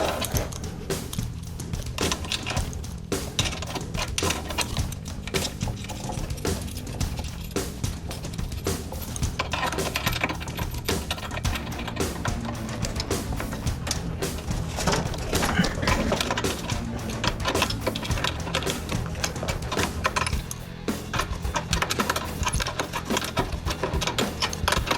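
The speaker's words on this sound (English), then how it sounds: "Start tightening it with a wrench." Steady metallic ratcheting and clinking of a wrench tightening a nut on a 5-inch bench vise, continuous and close for the whole stretch, with no voices.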